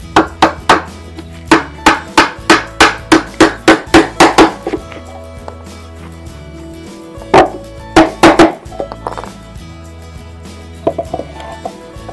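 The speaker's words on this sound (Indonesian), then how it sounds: "Kita paku yang satunya lagi." A hammer drives nails into a wooden stingless bee hive box, striking in quick rhythmic bursts of sharp, close knocks, a flurry of about a dozen blows, then a pause, then a few more scattered hits.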